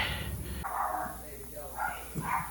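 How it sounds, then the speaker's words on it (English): A dog barks a few times in short bursts from nearby, mixed with someone talking in a garage while a Chevy GMC transfer case is being removed. "That's my dog barking."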